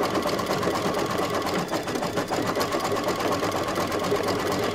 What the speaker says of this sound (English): We are ready to do the satin stitching all around.